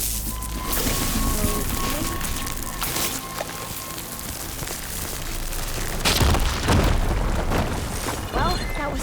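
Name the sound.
fire gleam explosion in video game Horizon Forbidden West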